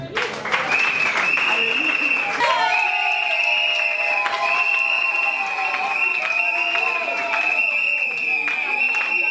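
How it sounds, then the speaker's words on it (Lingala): Wedding guests clapping and cheering steadily for several seconds at a celebration, loud and continuous under a sustained band of music. "vous pouvez vous mettre sous les acclamations"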